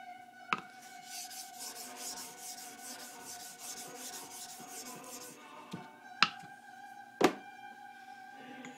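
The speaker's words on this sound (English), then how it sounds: "So now I'm just going to raise a slurry on this." A stone is rubbed across the surface of a smooth sharpening stone to raise a slurry, giving a rhythmic, close gritty scraping with several sharp knocks as the stones meet.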